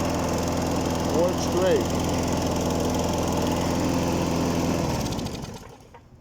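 A John Deere 14 SZ walk-behind lawn mower engine runs steadily at close range for about five seconds, then winds down near the end, while people talk over it.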